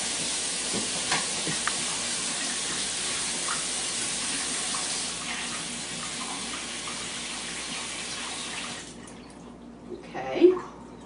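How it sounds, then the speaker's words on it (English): Brown rice being rinsed under running tap water in a fine mesh strainer, a steady hiss of flowing water that stops near the end, followed by a brief clink. "We're going to give it a good rinse."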